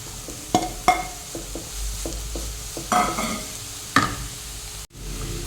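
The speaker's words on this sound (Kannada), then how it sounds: "ಸ್ವಲ್ಪ ಫ್ರೈ ಮಾಡ್ಕೊಳ್ಳುವ ಈಗ ಕ್ಯಾರೆಟ್ ಹಾಕ್ತೇನೆ" Carrots frying in a pan for a sweet dish, with a steady sizzle under sharp scraping stirs and clinks of a spatula against the metal, ending in a brief clatter.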